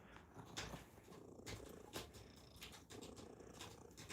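A big farm cat, a heavy tomcat around 25 pounds, purrs close up in a steady rumbling rhythm with soft breathy pulses, quiet overall and heard alone.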